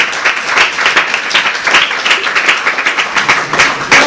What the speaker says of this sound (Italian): Io farei un bello applauso.